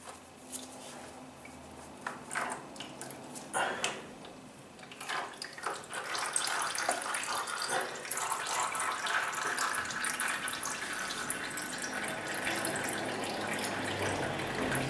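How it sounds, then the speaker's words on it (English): Engine oil dribbling from the oil filter of a Yamaha XJ6 Diversion F during an oil change, a thin trickle and scattered drips, intermittent at first then settling into a steady close-up flow. "Bit of oil dribbling, unfortunately there's not a lot you can do with it because there is a bit of oil inside the filter still."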